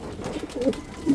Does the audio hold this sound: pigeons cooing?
yes